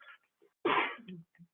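One sharp sneeze from a person at an executive meeting, a short burst in the middle of a quiet room, with faint breaths and murmurs around it.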